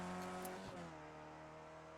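Race car engine revving high at Mount Panorama in a racing video game, a buzzing tonal whine that dips briefly then holds steady, fairly faint and alone.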